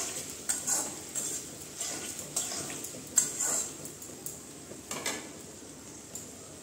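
Marinated chicken tipped into a pan of fried onions for Bengali chicken korma, with soft sizzling and scattered utensil scrapes and clinks at an uneven rhythm, close and moderately quiet.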